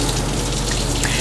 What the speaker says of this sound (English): rinse under running water until all visible dirt and debris have been removed